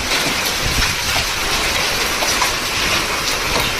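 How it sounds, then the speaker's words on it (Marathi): An unseasonal hailstorm lashes a home: a dense, continuous roar of strong wind and driving rain with hail, loud and unbroken throughout, with no voices. "वारं किती सुटलंय हे बघा, आणि पाऊस"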